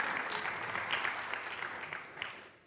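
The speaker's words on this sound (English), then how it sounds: "Can we all give him a clap?" A church congregation claps for Ryan, a steady wash of many hands at close range that carries on for a few seconds and then fades out at the end.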